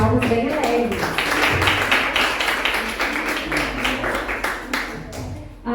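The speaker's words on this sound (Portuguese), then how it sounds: "serva do Senhor com as palmas bem alegres." A church congregation clapping their hands joyfully, a dense run of rhythmic claps, fairly close and continuous, with voices speaking or singing along.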